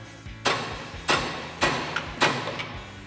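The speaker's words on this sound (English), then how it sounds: "We're gonna tap on the end of our shaft with a hammer." Four sharp metallic hammer taps, evenly spaced, strike the end of a steering shaft on a 2017-2025 Ford F-250 Super Duty during a Roush front suspension lift install, each blow ringing briefly up close.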